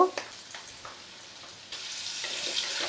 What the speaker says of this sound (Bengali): একটু লাল করে ভেজে নেব। আলুটা ভাজা হয়ে গেছে